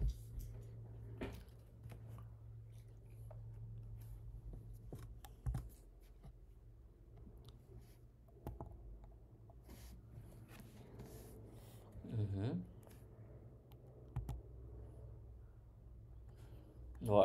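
Quiet, sparse clicks of typing on a computer keyboard in a room during a Python lecture, brief bursts of keystrokes with pauses between and some low background hum.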